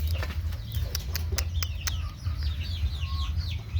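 Chickens cluck and a rooster calls at a rural Thai farm where birds are raised for sale, with a steady low rumble underneath and scattered sharp clucks and chirps throughout, fairly close and moderately loud.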